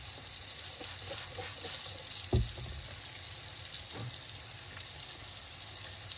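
Vacuum cleaner filters are washed with soap under running tap water, a steady soft rushing hiss with a few faint splashes and knocks, no talk.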